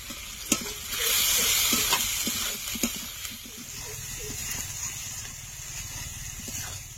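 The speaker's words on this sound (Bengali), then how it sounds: "এবার ভালো করে কষে নেব" Potatoes sautéing in a pan with cumin powder and Kashmiri chili powder, a steady close sizzle with repeated scraping stirs throughout.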